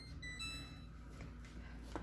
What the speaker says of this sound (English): Okay, timer's gone off.